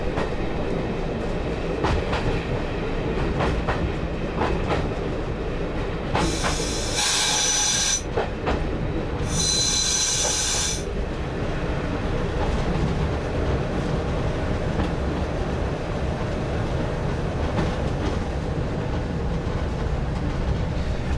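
A train runs along the East Lancashire Railway around a curve toward Irwell Vale Station, with a steady rumble and rhythmic clickety-clack of wheels throughout, two bursts of loud hissing, and no talk.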